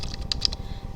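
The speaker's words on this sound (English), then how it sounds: "I'm just going to pretend that I'm typing rules" Quick bursts of typing on a computer keyboard, close and distinct, a few clustered keystrokes over a steady background with no talking.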